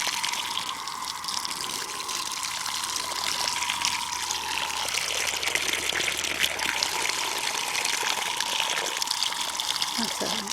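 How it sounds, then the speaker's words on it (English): Water gushes steadily from a hose into a planting hole in a garden, a continuous splashing rush close by, with occasional talk over it. "So what I do when I plant is I fill the hole with water."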